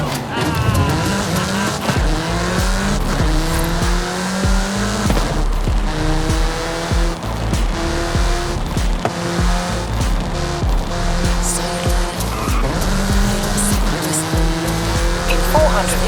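A car in the Forza Horizon 5 racing game speeds along loudly with a revving, shifting engine and repeated tire squeals, heard up close and continuous, with speech over it.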